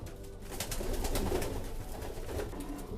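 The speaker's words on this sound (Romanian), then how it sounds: "Aici avem 2 porumbei în plus, care vor mânca mai la final." Pigeons cooing softly and steadily in a loft, several birds overlapping in a continuous low murmur with faint rustling, no talking.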